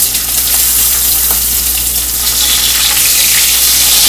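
Bacon strips frying in a pan on the stove, a loud continuous hiss of sizzling fat heard up close, steady and without pauses or voices.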